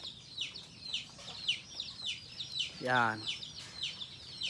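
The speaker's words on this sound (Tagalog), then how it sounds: "ayan yung aking mga alagang native chicken" Native chickens cluck in steady, overlapping calls with bright, chirpy peeps throughout, close by on a Philippine backyard farm. One louder, drawn-out call stands out partway through, and a voice speaks a word briefly.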